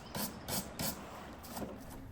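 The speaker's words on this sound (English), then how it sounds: "I'll begin digging this out with chisels" Chisels dig filler out of a knot in an antique wooden dresser, making short, faint rasping scrapes in a quick burst of three, then softer strokes.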